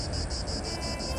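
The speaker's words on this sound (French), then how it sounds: "je vais essayer de mettre une musique et un bruit de cigale" A cicada sound effect added in editing drones as a loud, continuous rasping buzz that pulses in rapid regular waves, steady and close throughout the short stretch with no voices.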